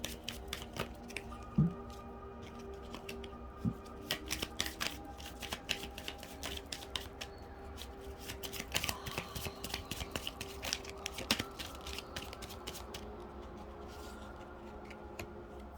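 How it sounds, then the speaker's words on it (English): Tarot cards are handled at close range: soft riffling and papery rustles with sharp little flicks and taps as cards are shuffled and drawn, quiet and uneven, with no talking. "I'm going to pull 2 more cards."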